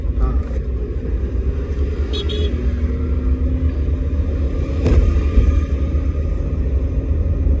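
A car engine held at steady revs during a driving lesson, a loud continuous low rumble running throughout with a slight swell near the end, under an instructor's voice.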